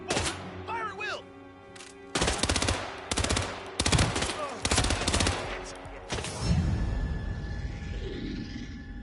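Gunfire in Hitman World of Assassination: loud, close bursts of rapid automatic fire in several volleys, with grunts and a voice mixed in, followed by rumbling game noise.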